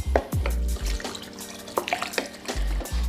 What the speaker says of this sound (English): Now I'm gonna go ahead and add my water.